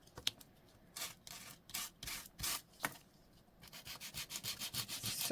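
Steady abrasive rubbing of an electric sander on wood, distressing the surface in repeated bursts with short pauses, close and fairly quiet, the passes growing quicker toward the end.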